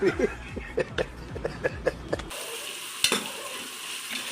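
Onions frying in a pan for chicken biryani, rhythmic stirring scrapes over a bubbling sizzle for the first half, then a steadier, brighter hiss with one sharp clank, close by.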